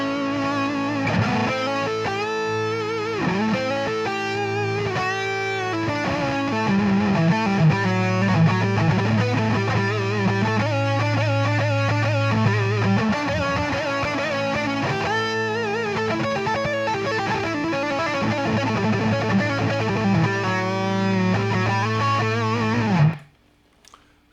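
Distorted electric guitar runs up and down the Mixolydian scale, sliding from the minor third to the major third, played steadily and loud over sustained low notes before cutting off near the end.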